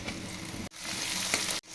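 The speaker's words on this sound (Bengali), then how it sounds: "পেঁয়াজ কুচি, পেঁয়াজটা লাল লাল করে ভেজে নেব।" Chopped onion and tomato frying in a wok give a steady, close, dense sizzle that cuts out briefly twice, with no talking.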